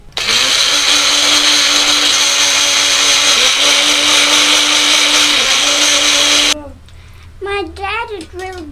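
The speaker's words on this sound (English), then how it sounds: "our muskmelon seed, we are going to grind it some" A kitchen blender grinding muskmelon seeds runs loud and steady with a constant whirring motor pitch, then cuts off abruptly, followed by a voice speaking.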